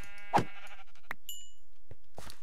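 Sheep in Minecraft in a mega taiga, giving a loud single bleat followed by a few fainter, scattered blocky game sounds and clicks.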